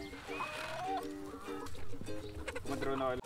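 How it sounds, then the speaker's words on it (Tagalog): Free-range chickens on a small farm clucking and calling in a lively, overlapping flock, fairly close, with a voice faintly present in the background. "317 free range chickens."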